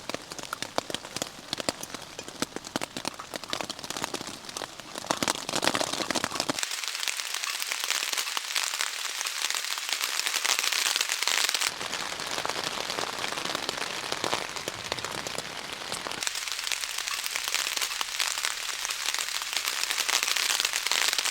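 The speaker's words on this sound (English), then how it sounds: "As you can probably hear, it's still raining." Steady rain at a campsite patters and hisses on a surface for a long stretch, dense and continuous, with the sound briefly changing character as if heard from different spots.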